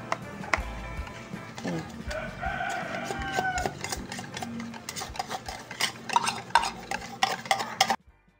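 Condensed milk being stirred into a mango graham dessert, with scraping and mixing sounds from a spoon in a bowl throughout. Roosters crow in the background and occasional clinks of dishes sound nearby.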